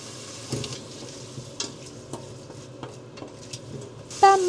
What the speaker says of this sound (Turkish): Mercimek çorbası için soğanları kavuruyorum.